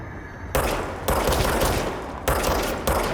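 Sustained automatic gunfire in the video game Control, loud and dense, with bursts restarting in quick succession and no talk over it.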